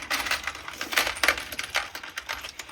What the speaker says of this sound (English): You hear every drop that lands on the stop